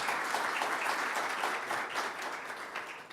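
Steady applause from an audience at a parliamentary public-policy session in São Paulo, a dense wash of clapping holding evenly for about three seconds with no voices over it.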